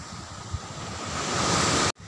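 Steady rushing surf washes under a wooden pier on an Aceh beach, a broad hiss of water that swells gradually louder before a sudden brief dropout.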